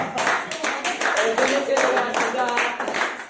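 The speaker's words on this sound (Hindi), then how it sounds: "जोरदार तालियां।" Hearty group clapping breaks out at a Hindi-speaking gathering, a bright uneven patter of many hands rising and falling in bursts over a few seconds, close by with a voice briefly audible among it.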